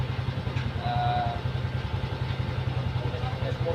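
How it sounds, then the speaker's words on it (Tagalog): A motorcycle engine idles steadily while warming up before the ride home from work, a low rhythmic thrum holding at an even, fairly loud level for a few seconds with a faint background voice. "nagpapainit ng motor"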